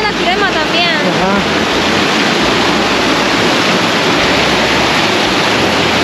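Water jet pouring steadily at the Apanteos bathing spot in Santa Ana, a loud continuous rushing splash that fills the clip, with a few brief voice-like tones riding on top near the start.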